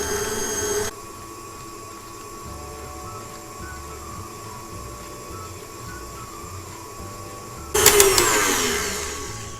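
An electric mixer beats Oreo cupcake frosting with a steady, droning motor whine that becomes louder and harsher near the end as the speed rises.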